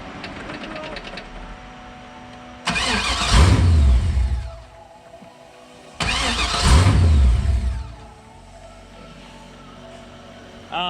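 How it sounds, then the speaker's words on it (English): A car engine cranks and starts twice, each a loud close burst of churning roar that settles and fades, with the engine's air intake covered by a shopping bag. "I'm gonna start this car up without it"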